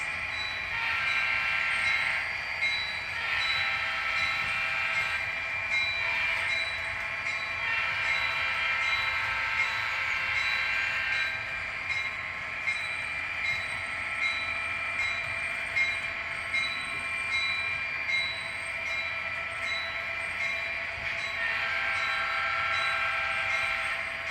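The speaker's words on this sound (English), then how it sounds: "we'll bring our passenger train to a stop. And then we'll just blow through all the horns of the locomotive" An HO scale model passenger train slows to a stop, then its locomotive horns sound, heard as a steady, fairly close electronic tonal drone lasting throughout with slight shifts in pitch and intensity, no talk.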